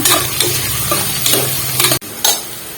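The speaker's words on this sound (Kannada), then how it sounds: "ಉಳ್ಳಾಗಡ್ಡೆ ಹಾಕ್ಕೊಳ್ಳೋಣ ಉಳ್ಳಾಗಡ್ಡಿನ ಹಸಿ ವಾಸನೆ ಹೋಗೋವರೆಗೂ ಚೆನ್ನಾಗಿ ಫ್ರೈ ಮಾಡ್ಕೊಳ್ಳೋಣ" Onions frying in a pan for masala rice, a loud, dense sizzle with a few quick stirring scrapes, close up, cut briefly near the end before resuming.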